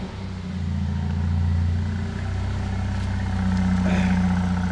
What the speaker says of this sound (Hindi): हम लोग सुनते हैं AMG की आवाज़